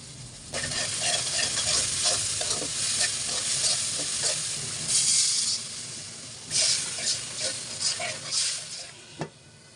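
Chopped onion frying in a pan with salt, ginger-garlic paste, chili powder, turmeric and garam masala, a steady close sizzle with stirring scrapes and swells of hiss, cut off by a sharp knock at the end.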